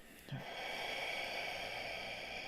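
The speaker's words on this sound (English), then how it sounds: "It's a very, very slow exhale." A person breathes out slowly during a guided breathing exercise, a soft, long airy exhale that starts with a brief nasal snort and then holds as a faint, steady hiss.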